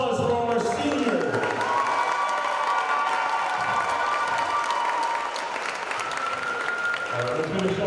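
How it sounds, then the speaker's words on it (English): A high school basketball crowd applauds and cheers for the seniors on senior day, loud continuous clapping with whoops and shouts, a voice on the PA talking over it. "Ladies and gentlemen, one last round of applause for our senior"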